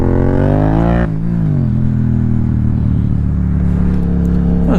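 A stunt motorcycle engine roars loudly and steadily during a wheelie. The pitch drops sharply about a second in, then settles into a sustained, close-up drone that climbs slightly near the end.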